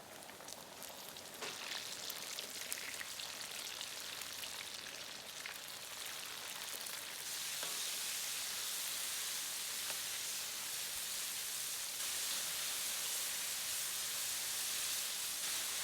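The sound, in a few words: shrimp deep frying in oil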